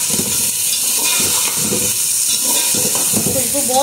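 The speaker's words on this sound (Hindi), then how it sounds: "अब हमारा मीट जा रहा है यखनी वाला। अभी थोड़ा भुनाई होगी, अब इसकी अच्छे से भुनाई करनी है।" Meat for white pulao being fried in a pot, giving a steady close sizzle and hiss with rhythmic stirring scrapes throughout.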